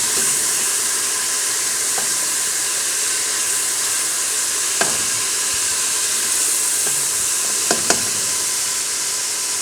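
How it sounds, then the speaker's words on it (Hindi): Ground onions fry in a pan with a steady, loud sizzle and hiss. Occasional faint clinks of a spoon stirring rise above it, with no one speaking. "चूँकि प्याज पिसा हुआ है इसलिए बहुत जल्दी फ्राई हो जाएगा"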